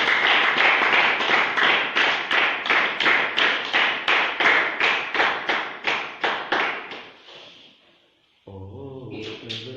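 A church congregation claps in unison to a steady rhythmic beat, about two claps per second, loud and close, then stops and music begins.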